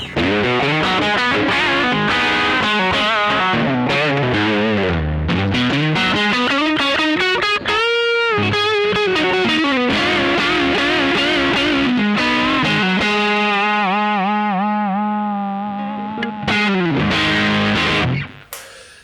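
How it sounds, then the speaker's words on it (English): A heavily distorted electric guitar, played through a Bogner Ecstasy Blue overdrive/distortion pedal, plays fuzzy chords and bending riffs, loud and sustained, ending with a long held note that cuts off. "this is officially my favorite distortion pedal I've played through"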